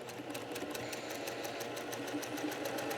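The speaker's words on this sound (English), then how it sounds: "And we'll go to the machine and stitch." Sewing machine running steadily while stitching and backstitching quilting fabric along a curved seam, a fast even needle chatter that holds close and loud without a break and has no talking over it.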